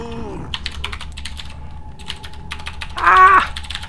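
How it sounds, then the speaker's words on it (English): Rapid clicking of a computer keyboard during a StarCraft 2 match, with bursts of keystrokes up close alongside a few brief tonal game sounds and no speech. "That means you'll hear my keyboard in the background."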